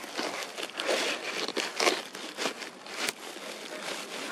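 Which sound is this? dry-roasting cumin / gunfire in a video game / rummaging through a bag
rummaging through a bag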